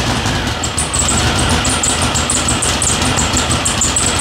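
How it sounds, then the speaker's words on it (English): Turbocharged VW Beetle engine just after a cold start, settling into a steady, loud idle with a continuous rumble and a faint high whine, heard up close without talk. "So yeah, enjoy the cold start."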